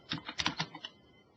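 A burst of quick keystrokes on a computer keyboard entering a short code, about seven close, crisp taps in under a second, then quiet.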